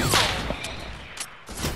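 Gunfire in Fortnite during a Food Fight match, several sharp shots in quick bursts near the start and middle, fairly loud against a busy game background.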